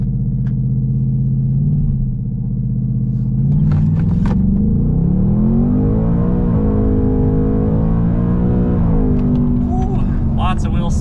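2024 Ford Mustang GT with the 5.0 V8 launching hard with wheel spin, a loud deep engine rumble rising in pitch through the revs, heard up close from inside the car.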